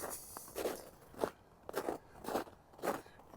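Boots crunch through snow on a path around a lake in Regina before dawn in December, five or six distinct, evenly paced steps close by with quiet pauses between them.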